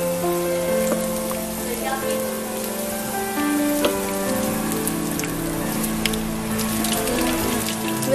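Onion pakoras deep-fry in hot oil over a high flame, giving a dense, continuous sizzle with crackling pops, close and steady throughout.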